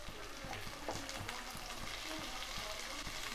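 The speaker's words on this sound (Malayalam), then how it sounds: "തക്കാളി ചേർത്ത് നല്ലവണ്ണം വഴറ്റിയെടുക്കുക." Tomatoes sauté in a hot pan for chicken curry, with a steady, dense frying sizzle throughout and soft rhythmic scraping of stirring underneath.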